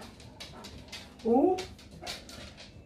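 Dogs whimper and yip briefly in a home kitchen, one short whiny burst standing out in the middle, with people talking quietly around it.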